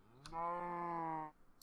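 A cow in a video game lets out one long, loud, steady moo lasting about a second, with a short click just before and a faint click after.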